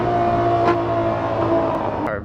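A Ferrari 812 GTS in Assetto Corsa roars loudly and steadily, with sharp blips near the start and toward the end as it downshifts, aggressive and close.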